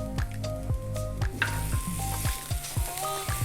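Carrot and capsicum sizzle steadily in hot oil, a close, continuous crackle and hiss with clinks and stirring knocks from a utensil against the pan, no voices.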